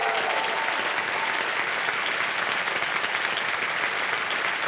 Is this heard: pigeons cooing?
no